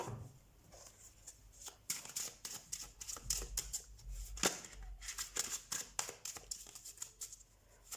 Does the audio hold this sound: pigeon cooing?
no